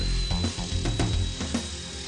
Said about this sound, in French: Faire basculer la butée et percer un trou à la perceuse.